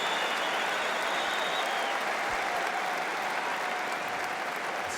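A Roland-Garros crowd at the 2011 men's final between Nadal and Federer applauds steadily, a dense wash of clapping that holds at an even level throughout without pauses.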